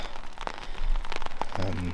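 Rain falls on trees and a poncho shelter in the Scottish Highlands in winter, a soft, steady patter with scattered close drops and a brief low hum near the end.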